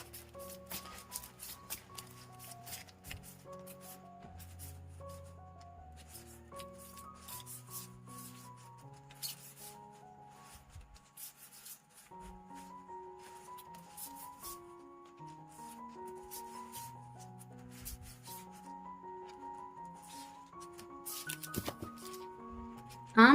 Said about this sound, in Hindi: तो शुरुआत करते हैं कार्ड शफल करके।